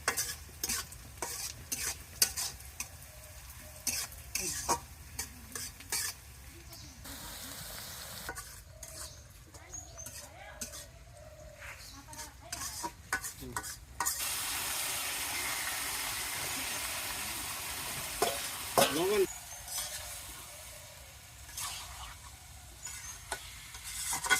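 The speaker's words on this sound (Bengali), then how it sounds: "মাংস বসাই দিয়েছি, তারপরে শুরু হবে খাওয়া দাওয়া" Meat cooking in a pot outdoors, sizzling and frying as it is stirred, with repeated scraping stir strokes over a steady hiss, loud and close, no talk.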